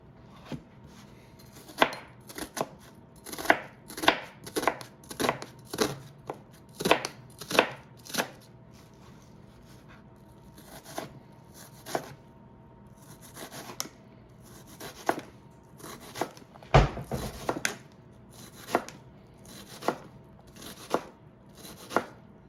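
Knife chopping food on a cutting board while prepping chicken enchiladas: bursts of sharp, rapid close chops in uneven runs with short pauses, clear and alone with no voices.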